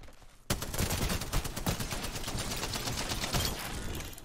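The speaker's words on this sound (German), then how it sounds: "jetzt werde ich angeschossen von oben" Gunfire from above in Apex Legends, a sudden burst of rapid automatic shots that cuts in abruptly and continues as a loud, dense rattle for several seconds.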